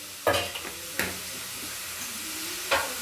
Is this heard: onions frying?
yes